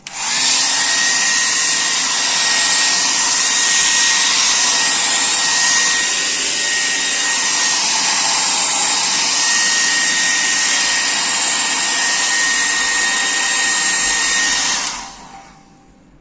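A hair dryer blows steadily and loudly at close range for about fifteen seconds, warming the rubber gasket of a refrigerator door, then shuts off abruptly near the end; no talking.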